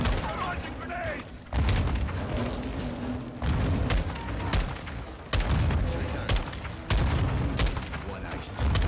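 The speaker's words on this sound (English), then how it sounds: "Launching grenades!" Grenade launcher rounds explode in Call of Duty: Modern Warfare II, a series of heavy booms at regular intervals amid continuous battlefield noise and distant gunfire.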